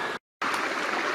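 A stream that has overflowed its bed near Lac Mégantic, flowing as a steady broadband rush of water, briefly cut by a short silent gap before resuming at the same close, even level.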